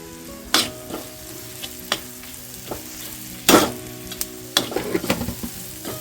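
Homemade spicy masala fries in a pan as it is stirred: a steady close sizzle runs throughout, broken by several sharper scraping strokes of the spoon against the pan, with no voices.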